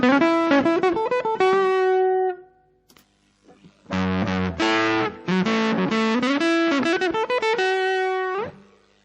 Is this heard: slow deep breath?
no